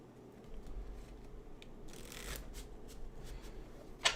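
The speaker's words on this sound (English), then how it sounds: "we'll do some more playing card gymnastics" Playing cards shuffled and flourished by hand, soft riffles and flicks that build to a dense burst of fluttering cards, then a few crisp snaps and a sharp final click, close and alone.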